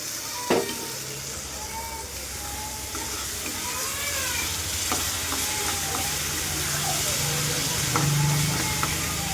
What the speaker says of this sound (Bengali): মশলাটাকে খুব ভালো করে কষতে হবে